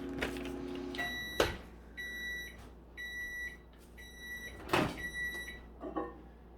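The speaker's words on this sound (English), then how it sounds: "I'm putting it in the microwave" Microwave oven heating chocolate: a run of high, steady beeps sounding in short bursts, with clunks from the door and handling between them in a quiet kitchen.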